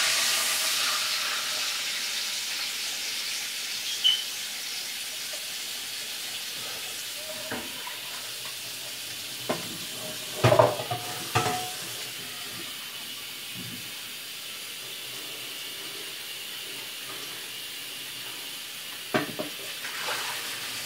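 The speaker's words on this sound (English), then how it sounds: "So you want to turn your hot water on and just put your pan in there." Hot water runs from a kitchen tap onto a pan in the sink as a steady hiss, with a few soft clanks and knocks scattered through it.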